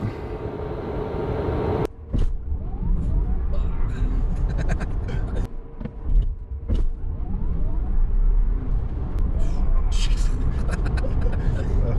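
A Raven Model X electric car on Arachnid wheels accelerates hard from a standstill at 80% power, a steady loud rush of road and wind noise with rising electric motor whine. Voices occasionally break in over it.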